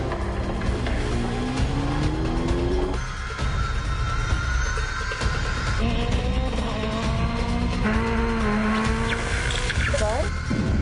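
A V8 Supercar race car lapping a circuit, its engine howling loud and close with rising revs and abrupt gear changes, and a voice speaking over it.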